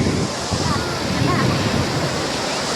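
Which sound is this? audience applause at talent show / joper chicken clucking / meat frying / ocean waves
ocean waves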